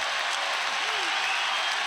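A wrestling match crowd at a college dual meet breaks into sustained, dense applause that fills the arena evenly, loud and continuous, with a faint voice in the mix.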